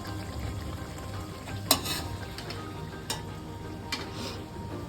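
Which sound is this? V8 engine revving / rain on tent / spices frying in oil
spices frying in oil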